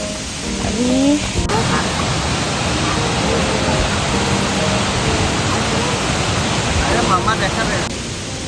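A constant roaring rush of water falling at Webster Falls in Hamilton, Canada, fills the air, broad and steady, with no breaks.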